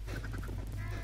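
Minecraft chickens on a survival farm give a short run of four or five quick clucks, faint against a low steady background hum, with no one talking.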